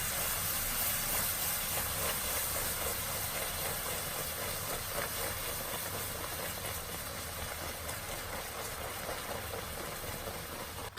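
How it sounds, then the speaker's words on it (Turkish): Cream poured into hot caramel and stirred for homemade Toffifee sets off a loud, steady seething hiss with dense bubbling that holds evenly throughout, with no voices. "Şimdi içerisine kremayı ekliyoruz. Bir yandan ekleyip diğer yandan karıştıracağız."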